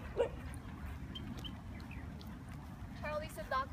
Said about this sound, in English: This is our best dog, Charlie boy.